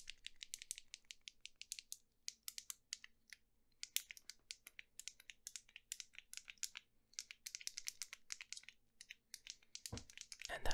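Buttons on a handheld fidget cube click in fast, irregular bursts, crisp and close with brief pauses, ending in a slightly heavier knock.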